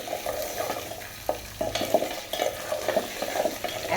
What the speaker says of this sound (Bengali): তেল দিয়ে একটু ভেজে নেব বেগুন, আলু, কচুটা